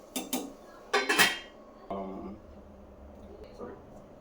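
A lid set onto a pan of onions cooking for a Telugu fish curry, with a few sharp metallic clanks and rattles close by, then quieter clatter and faint talk.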